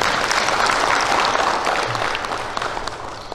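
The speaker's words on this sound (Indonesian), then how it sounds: "Aplaus Bapak Ibu sekalian." A roomful of people applauds steadily at a court ceremony in Samarinda, East Kalimantan, with dense, sustained clapping that stays loud throughout and eases slightly toward the end.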